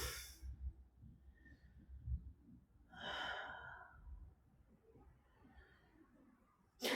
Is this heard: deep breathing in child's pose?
yes